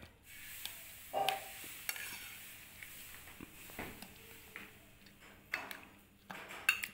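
Avocado salad is stirred and tossed in a bowl, soft scraping and clicking of a spoon against the dish in scattered, quiet strokes.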